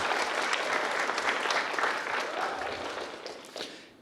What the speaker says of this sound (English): let's give a round of applause to Cris.